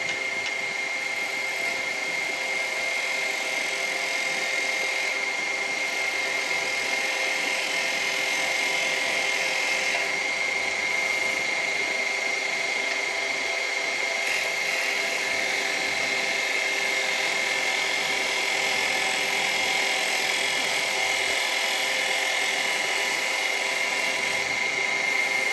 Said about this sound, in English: we're going to come in with our detail chisel to clean this up